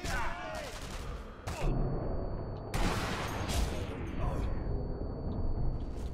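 Rifle fire in Sniper Elite V2: sharp, loud gunshot cracks at irregular intervals with reverberant tails, close by, amid game ambience.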